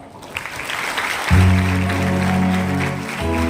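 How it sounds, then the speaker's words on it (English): Students applaud a chief guest at a commerce and accountancy workshop, steady clapping that is soon joined by a loud, sustained tonal hum running underneath. "Students, please join me in expressing our appreciation to our chief guest with a resounding round of applause."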